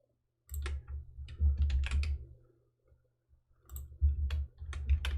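Computer keys clatter in two close bursts of rapid typing separated by a short pause, with nobody talking.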